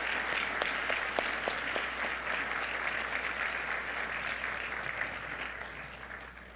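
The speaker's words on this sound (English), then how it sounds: "can we give a big round of applause to National Bank for their sponsorship?" Sustained audience applause fills a room at a scholarship brunch honoring a bank sponsor, dense and steady for several seconds before slowly tapering off.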